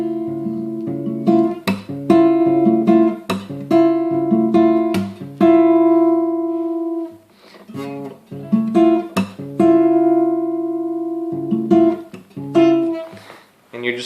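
An acoustic guitar picked note by note through a chord, with ringing tones and short rhythmic plucks repeating in a steady pattern.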